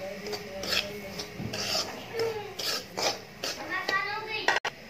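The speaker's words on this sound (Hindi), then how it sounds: "ये हमने सूजी को अच्छे से मिक्स किया है घी में" Semolina being stirred into ghee in a pan for suji gulab jamun, giving a steady gritty scraping and rasping that repeats in short strokes, close and moderately loud with no voices over it.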